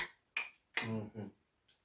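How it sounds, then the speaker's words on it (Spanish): A few crisp finger snaps, sharp isolated clicks spaced unevenly in a quiet room, with a short burst of speech between them during a Bible study talk. "como el que hace un chasquido"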